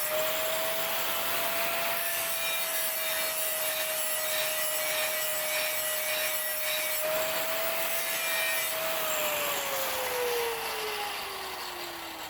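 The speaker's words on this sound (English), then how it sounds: "attacking them fairly savagely with an angle grinder, because they need so much removed to get them down to a usable level again" An angle grinder whines steadily and loudly as it grinds down worn, notched mulcher chipper shredder blades, holding a constant pitch before easing off toward the end.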